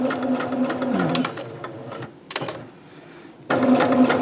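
A sewing machine runs in steady bursts while stitching along the edge of a skirt waistband, whirring close up, pausing briefly in the middle and then starting again.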